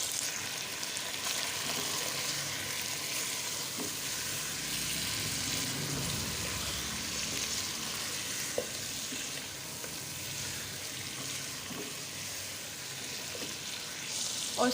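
Chicken for a Shahi korma fries in a pan with salt, chili, turmeric, coriander and cumin, a loud, continuous sizzle and crackle with occasional spoon scrapes and knocks as it is stirred.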